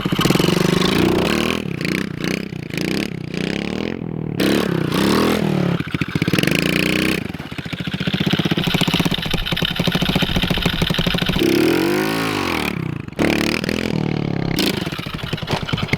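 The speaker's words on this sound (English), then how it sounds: "It's always got that little bog, always when I give it throttle, and it takes time to build up the RPMs." A pit bike engine, which bogs slightly when throttle is applied, idles roughly and is revved repeatedly in loud, close bursts, the pitch climbing and falling with each twist of the throttle, with some clattering in between.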